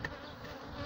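Honey bees of a calm, non-aggressive strain buzz steadily around the hives at a Cihanbeyli apiary, a soft continuous drone heard close and alone for under a second.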